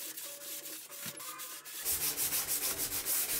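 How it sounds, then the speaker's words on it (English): A sanding block sponge rubs back and forth along the edge of a wooden door jamb in quick, steady strokes. The rasping starts soft and grows louder and closer partway through, with no talking. "start sanding, you have a nice perfect squared edge"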